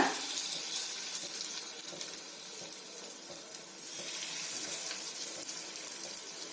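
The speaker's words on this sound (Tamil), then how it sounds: "கொஞ்சம் கொஞ்சமா நம்ம ஊத்திக்கலாம் நம்ம கலந்து வச்ச மாவை" Kara paniyaram batter poured gradually into hot oil in a paniyaram pan over a medium flame, producing a steady, fairly quiet, hissy sizzle throughout with no talk.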